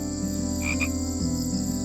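Frogs croak in a wetland in late summer, a steady close chorus running the full length with no talk over it.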